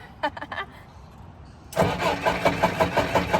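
A manual-transmission four-wheel-drive vehicle's engine is started with the key: a few brief starter clicks and a pause, then the engine catches and settles into a loud, close, pulsing idle.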